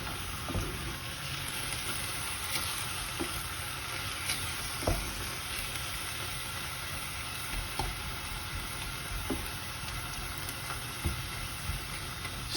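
Minced meat cooking in a pan, a continuous sizzle with scattered scrapes and knocks as a utensil breaks up the larger pieces, steady and fairly close, with nobody talking.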